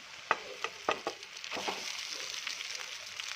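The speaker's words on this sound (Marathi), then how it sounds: "आता आपण जेवढा पाहिजे तेवढा आपण यामध्ये भात ॲड करूया" Cooked rice is tipped into a hot garlic and chili tempering in a pan, giving a few sharp scraping stirs followed by a soft, steady sizzle of frying, close by and quiet.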